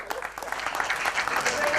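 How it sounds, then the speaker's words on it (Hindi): A crowd breaks into dense, sustained applause, a continuous clatter of many hands at moderate volume that swells slightly toward the end, with voices mixed in underneath. "उसके लिए भी तालियां होना चाहिए,"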